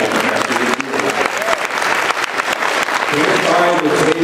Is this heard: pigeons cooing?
no